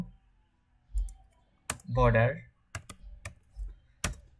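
Typing on a computer keyboard while building a website, a few sharp close key clicks spread out in a short burst, with a brief spoken word in the middle.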